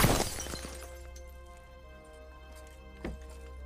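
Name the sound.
car window glass shattering from gunshots in film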